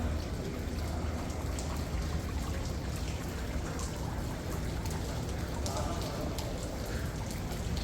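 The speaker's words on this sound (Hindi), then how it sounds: "अल्लाह ताला की रहमत बरस रही है और बारिश हो रही है" Rain falls steadily on the rooftop of Masjid-e-Nabwi, a dense, even hiss with scattered drop impacts. It continues without a break and fairly loudly throughout, with faint voices mixed in.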